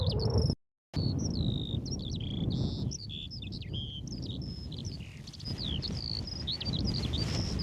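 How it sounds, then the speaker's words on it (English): Birds sing outdoors on a walk along the Pennine Way, with busy overlapping high chirps and warbles above a low wind rumble, fairly close and continuous after a brief dropout near the start. "Think about birds. How can something so small make so much noise?"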